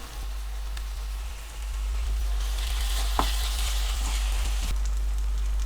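Ginger garlic paste fries in a pan for egg gravy, giving a steady loud sizzle that swells partway through, with a low constant hum beneath and a brief scrape or clink.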